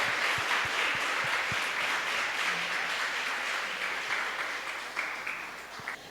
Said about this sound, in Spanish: Queremos solicitar un fuerte aplauso para ellos quienes amablemente nos apoyaron.